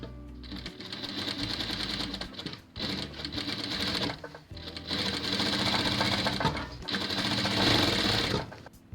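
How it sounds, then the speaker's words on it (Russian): A sewing machine stitches a second seam across fabric for a baby blanket envelope, running steadily and close in several long bursts with brief stops between them. "Делаем строчку вторую."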